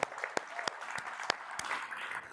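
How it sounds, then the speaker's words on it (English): Applause from a business event audience, with a scattered patter of hand claps. Sharp individual claps punctuate a soft continuous wash, heard at a distance and fairly quiet. "So round of applause for our broker partners."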